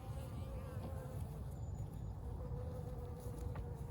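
Honeybees in a nuc colony give a soft, steady buzzing hum, faint and continuous, with brief light clicks and handling noises around it.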